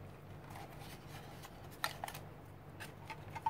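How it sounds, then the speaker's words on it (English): Nail scissors snipping a vellum butterfly, producing faint, sparse little cuts and soft paper rustles, close and quiet with no talking. "So now I can go and fussy cut it with the nail scissors"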